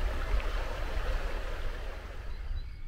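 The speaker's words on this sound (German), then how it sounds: "also eigentlich mehr ein Bach, der hier entlang fließt, am Stellplatz entlang" A small brook flows past a motorhome campsite, a steady broadband rush of running water, close and moderately loud, continuous throughout with no voices.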